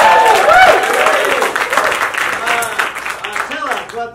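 An audience at a long-form improv show at a comedy festival breaks into loud, sustained applause with cheers, fading toward the end as a voice speaks over it.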